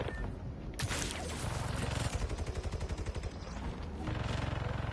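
Turret gunfire in the video game Marvel's Spider-Man 2, loud rapid automatic bursts that rattle in and out over a dense, noisy action backdrop.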